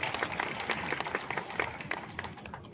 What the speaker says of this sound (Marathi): आपण जोरदार टाळ्या वाजवून त्यांचं अभिनंदन केलं पाहिजे.